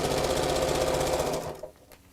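A sewing machine runs a seam on a fat quarter tote bag, a fast steady mechanical whirr and patter up close that stops abruptly near the end, leaving quiet.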